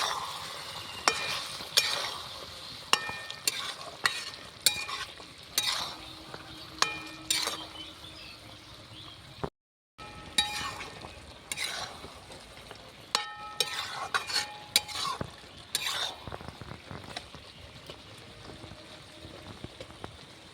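Chicken liver and gizzard stirred in a frying pan with a spoon, repeated scraping clinks and soft sizzling over about twenty seconds, with one brief silent gap midway and no talk.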